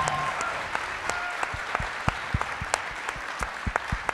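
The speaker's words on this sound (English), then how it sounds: "I just want to ask you to join me in just giving great kudos and applause." Applause for two collegiate athletes at a Stand With Women event in Pennsylvania, a sparse round of individual claps from a modest crowd, steady and fairly near, with a brief voice at the start.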